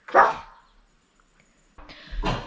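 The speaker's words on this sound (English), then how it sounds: "He's a barking pug." A pug barks indoors: one sharp close bark, a brief pause of near silence, then a second rougher bark.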